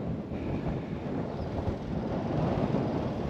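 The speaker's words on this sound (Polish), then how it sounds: "Wieje niesamowicie, więc nie wiem, czy będzie słychać cokolwiek" Strong wind over an open farm field buffets the microphone with a constant low rumbling roar that swells slightly but never lets up, with no one speaking.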